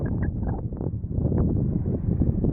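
Strong gusty wind buffets the microphone on an exposed hilltop on the Sheffield Country Way, a low, rumbling, uneven roar with fluctuating bursts and no talk.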